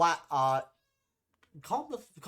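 Two loud, drawn-out cat meows close by, a pause of silence, then more wavering, yowling cat cries.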